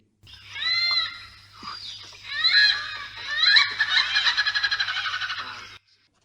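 Loud, raucous hornbill calls in a rapid cackling series, rising into a harsh, laughing chatter that pulses steadily before stopping abruptly.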